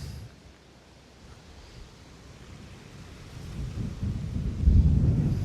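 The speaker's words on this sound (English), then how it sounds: "it's currently raining a little bit" Soft, steady rain falls outside in Aguadilla, Puerto Rico, with a low thunder rumble building and swelling louder toward the end, no voices present.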